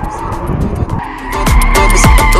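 A BMW drifting at a BMW car festival, its tires skidding and squealing in repeated loud bursts as the engine revs hard, the screech growing stronger and more continuous toward the end.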